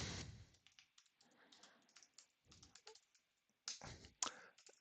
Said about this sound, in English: I'm just typing off screen here.